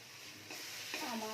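Spice masala for rajma being fried and stirred in a pan, a brief soft sizzle that grows louder with stirring scrapes and a faint tonal hum, no voices.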